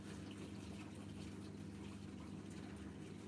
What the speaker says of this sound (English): It's doing its lovely, lovely, lovely little drain in the water.